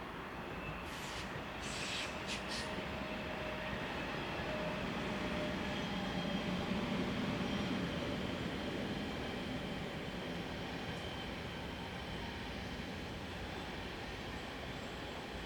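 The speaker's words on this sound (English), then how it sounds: "In this scene we have 460-101 working a Basel to Zurich service." A Swiss class 460 electric locomotive, number 460-101, hauls a Basel–Zurich service on the Sargans–Zurich mainline, a steady broadband rumble that carries on at even loudness throughout. A few faint high squeals come in early on, and no one talks.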